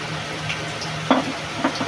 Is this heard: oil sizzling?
yes